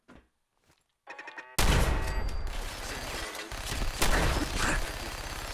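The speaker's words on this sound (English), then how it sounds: "it's a tough ass machine gun turret" Machine gun turret fire in Fallout 4, heavy sustained automatic bursts with booming impacts that start abruptly after a few faint mechanical clicks and carry on loudly to the end without talk.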